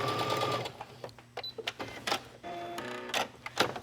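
A sewing machine back stitching along a bag seam for a cross-body bag, bursts of motor whirring and needle chatter stopping and starting in short runs, fairly close, with small handling noises between.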